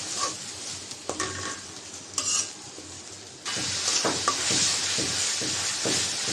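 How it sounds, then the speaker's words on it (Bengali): Ginger, garlic and spice paste fries in a pan after onions, giving a steady hiss and sizzle with scattered scrapes and clinks of stirring that grow louder and denser midway. "আদা রসুন মশলা একটু ভেজে নেই"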